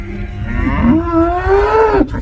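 One of the big cows on a cattle farm, penned by a new working chute, gives a single loud, close moo that rises and holds for about two seconds.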